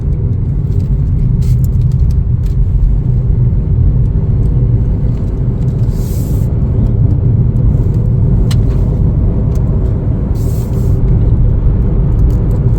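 A 2024 Chevrolet Trax LS on a road test drive gives a steady, continuous low rumble of engine and tire noise from inside the cabin. Nobody speaks, and the loudness stays level the whole way through.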